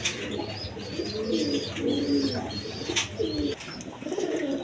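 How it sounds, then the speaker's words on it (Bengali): Big Raj Golla pigeons coo in soft, repeated low rolling calls, close by, with faint chirps and rustling around them. "একদম বিগ সাইজের রাজগোল্লা কবুতর।"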